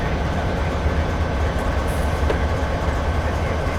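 A freight train in Train Simulator 2013 on the Granite to Wycon route rolls steadily along the rails, a loud continuous low rumble with a faint rhythmic clatter of wheels and no voices.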